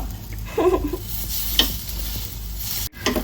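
Food roasting in a hot pan, turned and stirred with a utensil, a steady close sizzle with a few scraping stirs and a brief clatter.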